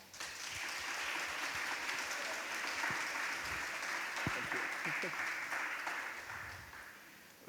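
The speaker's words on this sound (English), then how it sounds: "so please applaud them." A conference audience at a science and economy talk applauds, a steady broadband clapping held at even strength before tapering slightly at the end.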